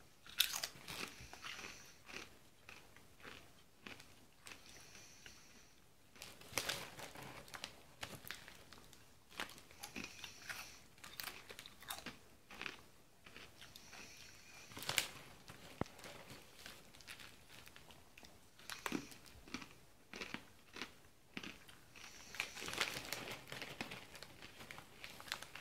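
Chili cheese flavored corn chips are crunched and chewed close up in repeated bursts of crisp biting, with quieter pauses between mouthfuls and no speech.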